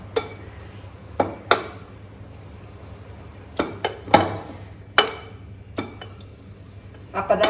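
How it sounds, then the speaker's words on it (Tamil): Cooked toor dal being mashed in a pot with a wooden masher, heard as a series of irregular, sharp knocks and clacks against the pot over a quiet background hum. "இதை வந்து இந்த மாதிரி மத்தில் மசிச்சு விட்டுறலாம்."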